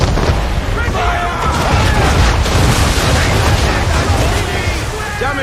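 Assassin's Creed III ship cannons roar in a sustained, loud barrage of overlapping booms and blasts, with a shouted voice riding on top of the thunder.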